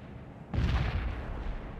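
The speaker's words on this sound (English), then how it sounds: "Zulu 9 are firing mortars at the target coordinates." Mortar fire in the real-time strategy game World in Conflict: a single sharp, heavy thump from a mobile mortar lands abruptly, then rumbles and decays over the following second at moderate distance, with no voices over it.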